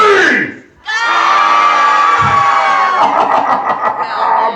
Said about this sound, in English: let's hear your screams, everybody